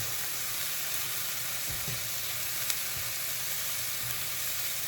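Thin slices of beef fry in a skillet that has lost a little heat, giving a continuous, even sizzle close by with a faint tap or two and no voices.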